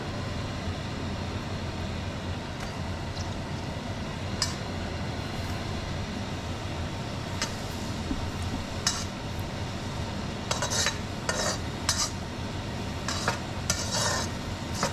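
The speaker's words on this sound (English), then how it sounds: "Then I add the green onion, the white parts, and ginger." Green onion whites and ginger stir-frying with cumin-spiced steak in a hot pan, a steady close sizzle running throughout with frequent metallic clinks and scrapes of a utensil against the pan.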